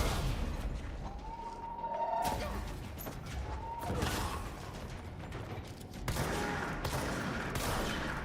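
Gunfire from a chain gun in the action game Control, a dense fusillade of rapid shots and crashing impacts that keeps up through the whole stretch, with a few brief whining tones over the barrage.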